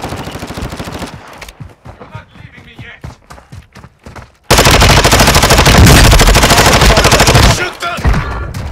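Video game gunfire starts as scattered separate shots, then erupts into a loud, sustained automatic burst lasting several seconds before easing off again.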